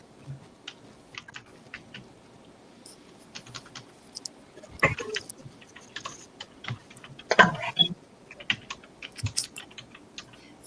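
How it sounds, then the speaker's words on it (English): Clicking keystrokes on a computer keyboard, irregular bursts of quick taps with a couple of louder clacks, close by and without speech. "Sorry about the typing sound."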